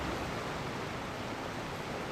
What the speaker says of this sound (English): Man, that is a loud waterfall